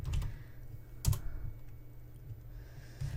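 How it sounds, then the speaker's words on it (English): Soft, close typing on a computer keyboard, a few quick key taps with one louder cluster, over a low steady hum. "you would just type in Yoast"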